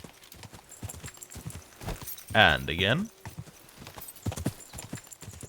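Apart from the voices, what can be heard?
horse hooves galloping in video game Kingdom Come: Deliverance II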